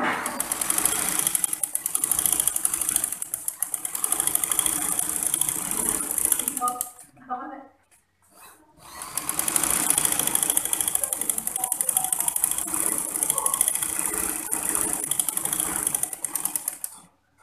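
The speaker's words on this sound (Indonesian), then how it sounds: "Langsung aja kita jahit." A sewing machine stitches a pleated skirt in a steady, fast mechanical whir, running continuously, pausing briefly in the middle and then resuming, with close ratcheting clatter.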